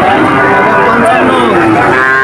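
A purebred calf moos loudly at the Satmail cattle market, its call carrying over a dense, steady crowd of voices and market bustle.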